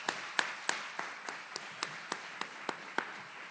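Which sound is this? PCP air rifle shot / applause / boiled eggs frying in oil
applause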